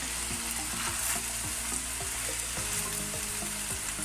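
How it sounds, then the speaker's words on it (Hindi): Carrots fry lightly in a pan as the start of a chicken vegetable spaghetti, a continuous close sizzle joined by rhythmic scraping knocks of stirring, steady and moderately quiet, with no talking. "अब इसको हल्का सा फ्राई करते हैं।"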